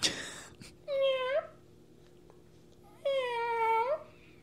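A cat meows twice, drawn-out and plaintive, with a short pause between calls, close by in a quiet room.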